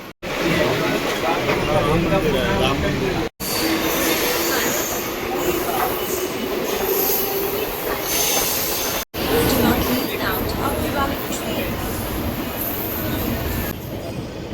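A Mumbai local train runs between Borivali and Malad, loud and close from inside, with rumbling wheels, squeals and rattling carriages; two brief dropouts break the steady roar.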